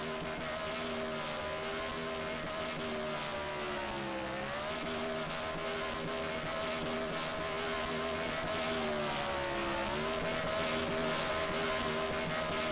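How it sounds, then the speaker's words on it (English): A race car from the Red Bull Cup Series at Nashville Fairgrounds doing a burnout, its engine revving in a sustained, rising and falling roar with tire noise, heard from a distance. "A great burnout there from that 12 car"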